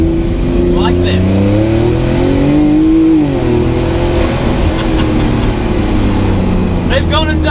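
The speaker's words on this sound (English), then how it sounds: "And that's how they ended up having a car that looks like this and sounds like this." Twin-turbo Porsche flat-six in a Fenyr Supersport hypercar revs loudly and continuously, pitch rising and dipping through several sweeps with a dense mid-range roar, close and dominant throughout.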